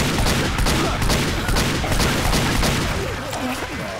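Rapid bursts of video game gunfire fire at a player, dense and continuous, close and loud, while voices talk over the shooting.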